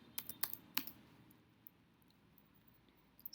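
A computer keyboard clicks in a few quick keystrokes up close, then sparse faint taps follow during a quiet stretch.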